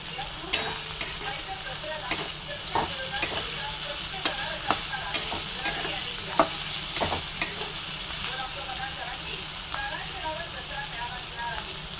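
A pan of dill greens with moong dal sizzles and cooks steadily, with occasional light clicks of a spoon against the pan over a constant frying hiss.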